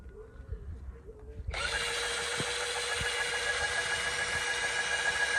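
After a short quiet stretch with faint background noise, a power drill whirs on and runs steadily at a high, constant whine nearby.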